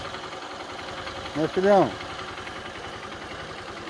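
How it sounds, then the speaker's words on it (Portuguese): A motorcycle engine idles steadily with a low chugging rumble during a ride with a father and young child, close and continuous while a voice speaks briefly over it. "Olha quem tá andando de moto com o papai, gente."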